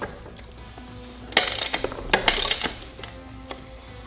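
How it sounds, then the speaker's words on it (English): A wrench loosens the nut on a dirt bike chain adjuster, giving a close series of crisp ratcheting clicks and metallic ticks in a few quick bursts. "first thing I'm gonna do gonna loosen this nut over here"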